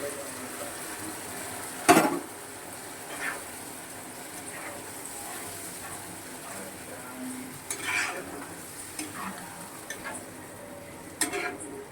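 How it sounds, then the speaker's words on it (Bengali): Boiled chickpeas go into a pan of spice masala frying in oil, giving a faint soft sizzle with a few clinks and stirring scrapes scattered through a quiet stretch. "এবারে আমি যে ছোলাটা সিদ্ধ করে রেখেছিলাম দিয়ে দিচ্ছি।"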